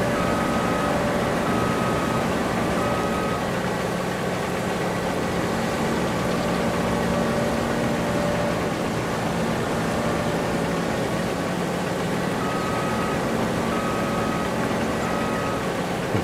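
A German tractor in Farming Simulator 22 runs with a steady low engine drone, an unbroken mid-level rumble with a faint hum on top that holds constant throughout, with no talk.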